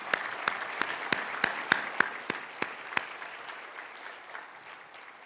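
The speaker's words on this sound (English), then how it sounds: "Can we perhaps offer our appreciation and a round of applause for these colleagues?" Audience applause at an academic management association's presidential address, a dense spread of clapping with several sharp, distinct claps standing out, fading away toward the end.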